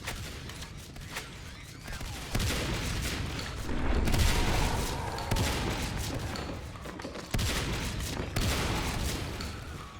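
Continuous gunfire fills a round of the competitive match in Natural Selection 2 as Marines shoot alien eggs near the Hive, with dense automatic bursts and booms at steady loudness and brief dips between volleys.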